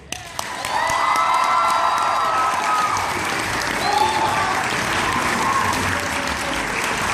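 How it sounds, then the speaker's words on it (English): Sustained applause from a large audience, steady and loud throughout, with a few scattered cheers and whoops rising from the crowd. "keep your applause coming"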